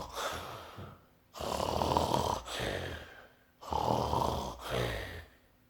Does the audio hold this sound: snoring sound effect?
yes